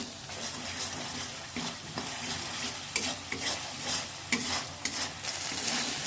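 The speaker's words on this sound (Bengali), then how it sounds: "এবার মশলাটাকে আমি ভালোভাবে কষিয়ে নেবো" Spice paste for a Bengali shukto sautés in a pan under constant stirring: a close, steady sizzle broken by repeated spatula scrapes and knocks, with no voices.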